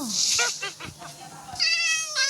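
Cat meowing in the Minecraft video game: a sequence of short, close, clear meows with brief gaps, ending in two longer, louder meows.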